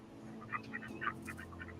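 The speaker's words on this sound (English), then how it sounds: "the ducks are fighting to get a meal" Ducks on a park pond squabbling over bread thrown in by children, a scatter of short quacks and honks at a distance, faint over a low steady background murmur.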